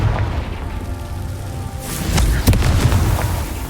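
A fiery blasting spell in a wizarding adventure game goes off as a close, heavy boom amid rumbling crackle and sharp pops, loud over a dense noisy background, with no voices.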